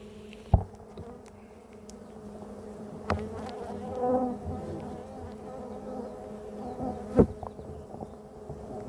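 Honeybees buzz steadily around an apiary hive during a spring Varroa treatment visit, a continuous close drone with a few sharper knocks and shifts in pitch, no talking.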